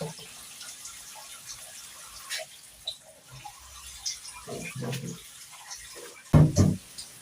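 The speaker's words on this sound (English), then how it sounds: "as I continue cleaning the rice" Rice being rinsed by hand in water, soft sloshing and splashing with a few louder swishes near the end, faint and intermittent.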